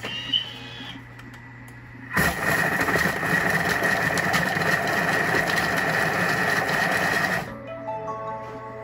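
A Thermomix M6 kitchen machine runs at speed 4 for about five seconds, a loud, steady motor whir that starts abruptly and stops cleanly, close by and alone over a faint background hum.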